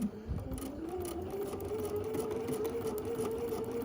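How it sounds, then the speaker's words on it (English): A sewing machine runs steadily while stitching quilt block pieces, a continuous close motor hum with a rapid needle rhythm throughout, no voices. "we'll just happily sew along here"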